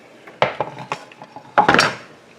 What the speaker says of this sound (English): now let's stir it up